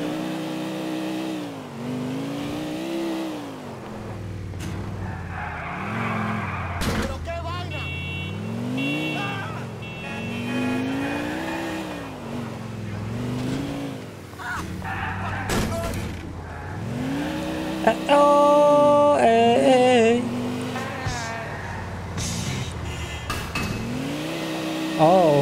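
A car in Grand Theft Auto IV drives through the streets, its engine repeatedly revving up and dropping through gear changes, with brief tire squeals and a few crashes, while a voice speaks at times.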